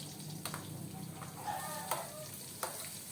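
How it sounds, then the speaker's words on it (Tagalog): Garlic and onion sauté in hot oil in a pan for Kapampangan cooking, crackling in a continuous sizzle with a few sharp utensil scrapes and clinks as they are stirred close by. "Yan po ang ating paggigisa"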